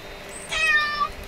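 A cat in the video game Who Stole My Beard? gives one clear, close meow with a rising-then-falling pitch, heard alone.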